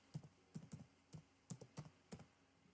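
Short bursts of keystrokes on a computer keyboard, about ten close, crisp taps in small irregular clusters while an account signup form is filled in, with no talking.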